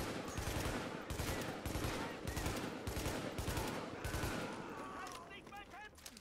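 Rapid bursts of gunfire from The Division video game, repeated volleys in quick rhythm across the whole stretch, loud and close, ending with a few scattered sharper sounds.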